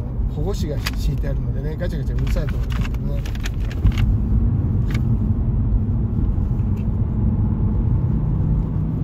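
A Subaru Legacy B4 car is driven on the road, its engine and road noise forming a loud, steady rumble inside the cabin while someone talks over it.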